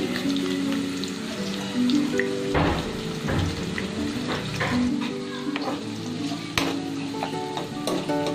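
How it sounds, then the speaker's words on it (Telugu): Onion and green chili pieces fry in hot oil for chicken curry, a steady loud sizzle with clinks and scrapes of a ladle stirring them through. "ఉల్లిపాయ ముక్కలు ఇంకా పచ్చిమిరపకాయ ముక్కలు మొత్తం ఆయిల్లో వేసి ఆయిల్ అంతా పట్టే విధంగా గరిటతోటి కలుపుకోవాలండి"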